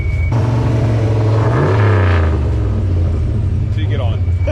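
A turbocharged 800-horsepower Ford Foxbody engine rumbles at low, steady idle close by, swelling briefly in a rev midway, with people talking over it.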